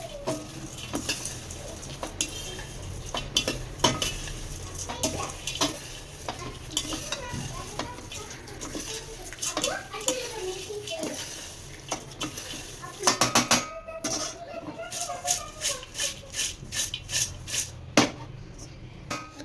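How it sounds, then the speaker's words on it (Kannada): Avalakki (flattened rice) is stirred and tossed in a pan, producing steady scraping and rustling with repeated sharp clinks of the utensil against the metal over many seconds. "ಸೊ ಇದನ್ನು ಒಂದ್ಸಲ ಚೆನ್ನಾಗಿ ಮಿಕ್ಸ್ ಮಾಡ್ಕೊಳ್ಳೋಣ. ಇದ್ರ ಮೆಲ್ಲಗೆ ಮಿಕ್ಸ್ ಮಾಡ್ಕೋಬೇಕು"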